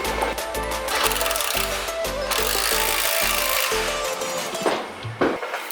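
A power tool tightens the K-member bolts under a car in a home garage, running in loud steady bursts with clear rhythmic pulses. It cuts out near the end, leaving a few clanks.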